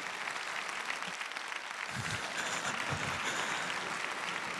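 Sustained audience applause for a singer at an Italian award show, the Premio Civiltà dei Marsi, steady dense clapping from a crowd filling the whole stretch without a break.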